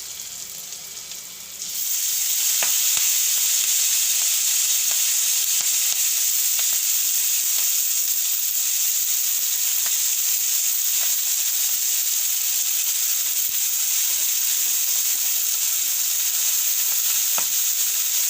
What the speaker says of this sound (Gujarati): હવે મેથીને આપણે ધીમા ગેસે સરસથી તેડવી લેવાની છે